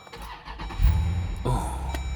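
A 6.4 liter Hemi V8 starts with a short starter whir, then catches into a deep, close low rumble that settles into idle.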